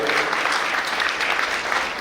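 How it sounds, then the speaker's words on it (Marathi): An audience at a school event claps loudly and steadily, a dense wash of many hands close by that carries through the whole moment. "आपण त्यांच्यासाठी पुन्हा एकदा कलाडून टाळ्या वाजवू"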